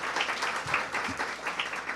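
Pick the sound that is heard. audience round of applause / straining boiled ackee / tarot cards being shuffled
audience round of applause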